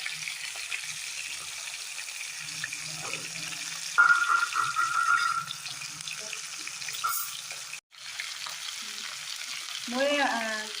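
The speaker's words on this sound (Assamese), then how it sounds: "মই তাৰপিছত পিঁয়াজখিনি ভাজিছোঁ" Chopped onions frying with half-cooked fish in a pan, a steady hiss and sizzle with faint stirring and a brief watery gap; no talk.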